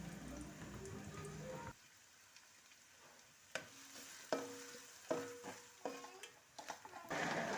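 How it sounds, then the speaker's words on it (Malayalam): Chopped onions fry in hot oil, first as a soft steady sizzle, then as a quieter hiss broken by sharp spoon-on-pan clacks and stirring scrapes, with the sizzle swelling again at the end. "ഇതാ അപ്പോഴത്തേക്കും ഓയിൽ ചൂടായി വന്നിട്ടുണ്ട് അതിലേക്ക് ചെറുതായിട്ട് കട്ട് ചെയ്ത് മാറ്റി വെച്ചിട്ടുള്ള സവാള ആഡ് ചെയ്ത് കൊടുക്കുക"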